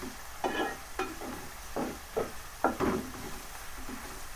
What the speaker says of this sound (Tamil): பூண்டு உரிச்சு வெட்டி வச்சிருக்குப்பா. அதையும் போட்டுங்க. நல்லா வதங்கணும் எல்லாமே இந்த எண்ணெயிலேயே.